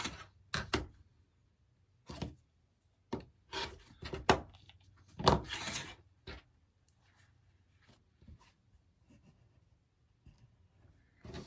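Cutting and trimming a fabric quilt block for a pressed-flowers pattern, a series of separate scraping, rasping strokes with quiet gaps between them, near and fairly faint, with no voices.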